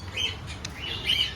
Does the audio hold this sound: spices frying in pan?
no